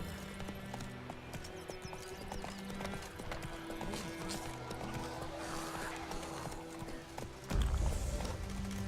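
Horse hooves in the Witcher 3 game clop steadily through a galloping ride, layered under game music and ambience, with a louder low thump near the end.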